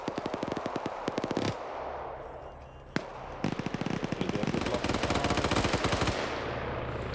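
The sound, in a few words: GPMG machine gun firing in PvP video game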